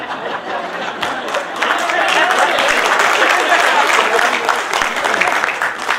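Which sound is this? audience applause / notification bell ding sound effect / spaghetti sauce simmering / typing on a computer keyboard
audience applause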